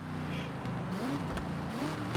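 A car engine in a video game idles with a steady low drone, then rises in pitch as it revs briefly and settles, heard fairly clearly without talk.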